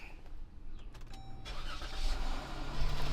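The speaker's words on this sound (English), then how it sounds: "Fire this thing up so you can get the coolant sucked down." A Jeep Cherokee engine cranks with a brief starter whir, then catches and settles into a steady close idle, heard alone.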